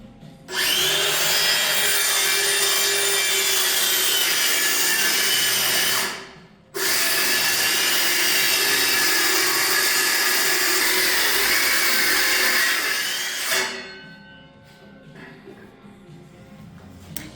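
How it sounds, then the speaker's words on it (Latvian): Loud, close, continuous whine of a circular saw with a new blade biting into dense oak, with a short pause mid-cut, then tapering off as the blade spins down. "nu davai mēģināsim zāģēt, rekur nopirku jaunu ripu, ripzāģim, lai labāk zāģējas"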